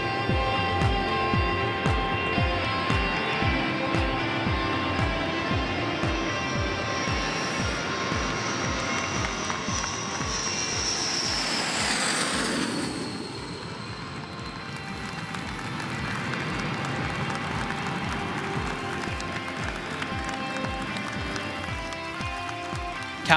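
Boeing 787-9 Dreamliner on its maiden flight descending to land at Boeing Field in Seattle, a steady jet engine roar heard from a distance with a rising, sweeping whoosh as it passes, continuous and fairly loud.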